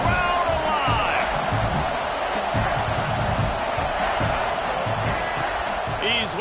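Stadium crowd noise in the football video game College Football 26 during a red zone third down, a loud, steady roar of cheering fans with whistle-like tones and a few thumps across the whole stretch.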